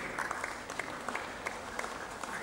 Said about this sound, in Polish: Poproszę o brawa również.